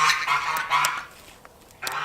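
A chicken gives several loud, close squawks and honking cries while its wing feathers are being clipped with scissors, with a short quieter gap before one more burst at the end.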